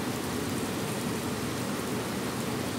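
Rain falls at an electrical substation in Camarin, Caloocan, making a steady, dense hiss of drops that stays even and unbroken throughout with no other sounds.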